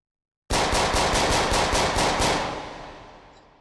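Mac-11 submachine gun firing a rapid burst in the VR shooter H3VR: about ten evenly spaced shots in fast rhythm that start abruptly, close and loud, then ring out into a fading tail, with no talk.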